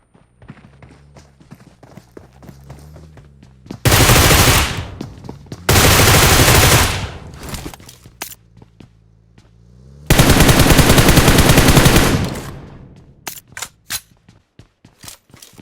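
Automatic gunfire in the Free Fire battle royale game during a solo ranked last-zone fight, heard as three sustained loud bursts between quieter scattered single shots and footstep-like clicks, with no talking.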